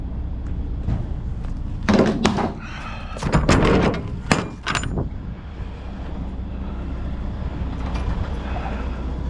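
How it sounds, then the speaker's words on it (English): Metal truck trailer doors are opened, with a run of loud clanks, bangs and latch rattles up close, then a quieter rumble of engine and yard noise. "Open up the doors."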